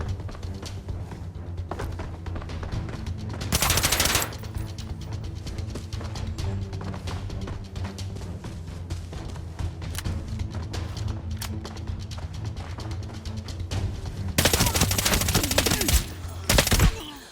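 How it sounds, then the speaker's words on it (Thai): Gunfire in the Arena Breakout shooter game, a steady stream of rapid shots with louder bursts near the start and end, including a stray volley that hits a car. "เมื่อกี้ยิงพลาดไปยิงรถนะ"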